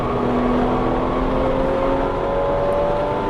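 A 2016 Porsche GT3 RS engine drones loudly and steadily with a rising pitch as it accelerates, the exhaust humming continuously up close.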